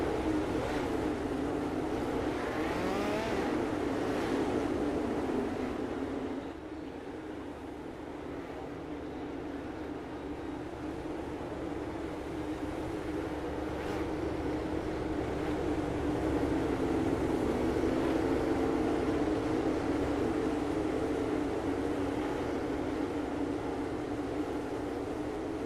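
National Midget Association race cars in iRacing roll slowly under caution to warm their tires, a continuous droning engine rumble from several cars that holds steady with a slight dip and swell, and no voices over it.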